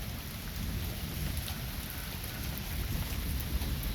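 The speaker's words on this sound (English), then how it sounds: "I got some thunder, I got some rain." Rain pours steadily through a thunderstorm, a constant hiss of drops over a deep low rumble of thunder, evenly sustained and free of speech.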